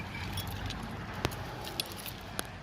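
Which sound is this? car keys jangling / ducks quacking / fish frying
car keys jangling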